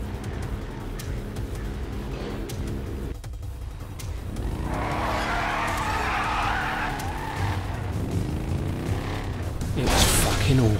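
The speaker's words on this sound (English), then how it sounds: "Now, I got a chance to drive a monster truck, and I just couldn't turn it down." A monster truck driven in GTA 5, its engine droning steadily under continuous tire skidding and squealing that swells midway, with a rising whoosh near the end; a voice is faintly mixed in.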